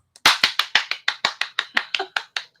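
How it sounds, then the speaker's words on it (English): Hand clapping at a Friday night Dungeons and Dragons game gathering: about fourteen sharp claps in a steady, slightly slowing rhythm, close and loud, with no voices over them. "If you clap, you get extra credit."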